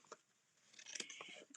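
Paper scissors snip a small piece of fabric in a quiet room, giving a few short, close crisp cuts that grow busier toward the end.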